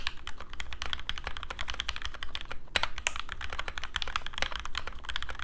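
Steady, fast typing on a budget WK61 mechanical keyboard modded with new switches, dense overlapping clacks close up with a brief pause near the middle, no talk.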